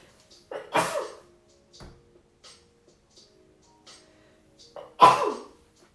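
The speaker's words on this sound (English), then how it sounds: "I have to sneeze" Two loud sneezes a few seconds apart, each with a sharp burst, separated by quiet with faint ticking and small mouth sounds.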